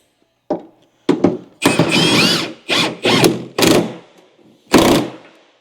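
Wrench torquing a bolt to spec on a 1983 GMC Sierra 6.2L diesel engine, a series of about seven loud, close ratcheting clicks in short bursts separated by brief pauses.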